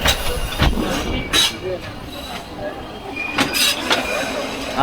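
A Narayanganj commuter train runs along the rails with a close, continuous rumble, broken by sharp clacks and metallic squeals from the wheels.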